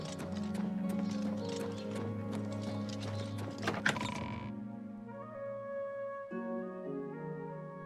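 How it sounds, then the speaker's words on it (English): Horse hooves clip-clop in a steady trotting rhythm in the video game The Elder Scrolls IV: Oblivion, close and clear for several seconds before stopping, leaving sustained musical tones behind. "Everybody needs a copy of the Black Horse Courier."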